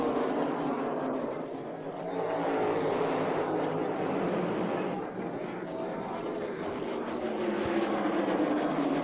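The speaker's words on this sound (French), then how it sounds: "Les pilotes s'élancent à fond, prêts à en découdre pour cette soirée d'exception." Race cars roar off at the start of the NASCAR All-Star race, a loud, continuous engine blare that swells and dips slightly as the field accelerates past.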